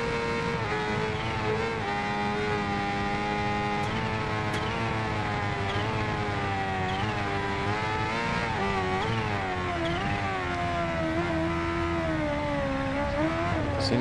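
Kawasaki Ninja H2R 2015 motorcycle engine in the racing game Ride 2, a loud, sustained whine that rises and dips with throttle changes, continuous and alone throughout.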